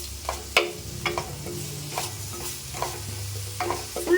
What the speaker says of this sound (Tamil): ஃப்ளேமை குறைச்சி வச்சு வதக்குவோம்.